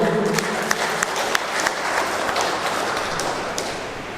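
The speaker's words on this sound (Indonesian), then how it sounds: "Beri aplaus untuk beliau." Audience applause fills a school coordination meeting hall at SMAN 1 Menganti in Gresik, with steady, dense clapping from a seated crowd that runs throughout and fades a little toward the end.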